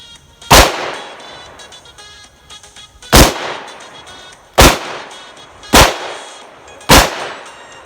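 Five loud, sharp shots from a Taurus Judge revolver firing hollow point rounds, spaced about one to two seconds apart, each with a short ringing decay and no talk between them.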